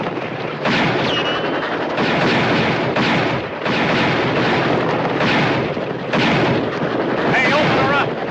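Gunfire is aimed at a river boat in a Western action film, a loud, sustained roar of shots and blasts arriving in repeated surges of a second or two, with brief whistling ricochet-like streaks and voices mixed underneath.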